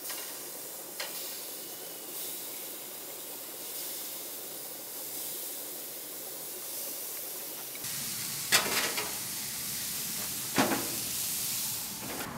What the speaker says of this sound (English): Now I'm going to put all my tenderloins on there.